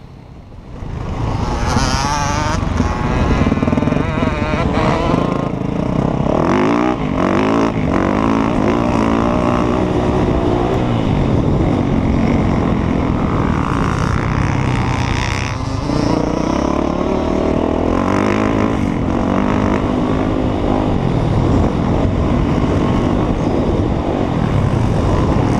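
A Yamaha motocross bike at a demo day races over a bumpy dirt track section with jumps, its engine roaring loudly and continuously, revs rising and falling throughout with constant wind buffeting.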